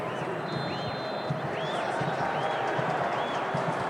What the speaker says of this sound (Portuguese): E agora muito aplaudido pela torcida do Vasco, o Carlos Alberto.